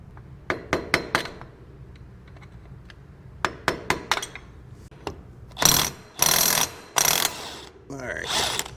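A ratchet working the rear axle nut off a Yamaha Wolverine X2 1000: bursts of rapid clicking pawl strokes, then louder metallic grinding and clinking turns, close up with no talk.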